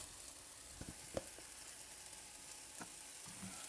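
Floured meat browns in a pan with a soft, steady sizzle, marked by a few faint knocks of a utensil against the pan and no talking.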